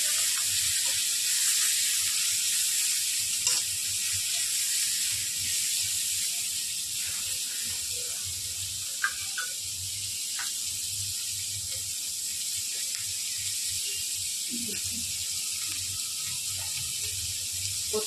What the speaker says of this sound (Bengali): খুব বেশি ভাজবো না, আরেকটু ভেজে দেবো।